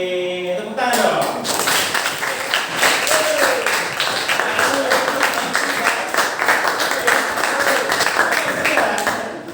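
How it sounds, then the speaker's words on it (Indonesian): A high-school class claps together in a classroom, a steady run of sharp overlapping hand claps lasting several seconds after a brief spoken lead-in, with a few voices faintly mixed in. "Oke, tepuk tangan dong."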